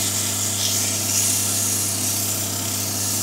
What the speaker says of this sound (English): So after that, we're going to give it a nice sand down.